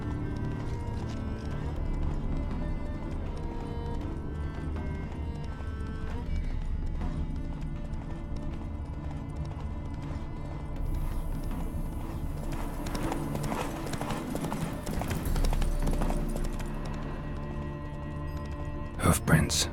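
Horse hooves clip-clopping at speed in The Witcher 3, a steady rhythmic beat beneath game music and ambience over about twenty seconds, with a spoken line heard over it.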